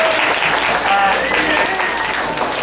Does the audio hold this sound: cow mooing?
no